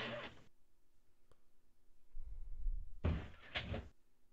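A door closes in a teammate's room during an online co-op Dark Souls III session, a muffled thud followed by a couple of brief bursts, fairly close, with no speech over it.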